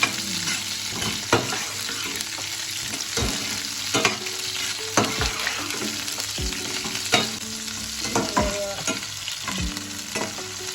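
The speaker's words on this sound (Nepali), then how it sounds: "त्यसलाई एकछिन फ्राई गरेर एकछिन चलाएर फ्राई गर्नु पर्यो।" Garlic, chili and onion sizzle steadily in a pan, with frequent sharp scrapes and taps from a stirring spoon throughout, close and loud with no talking.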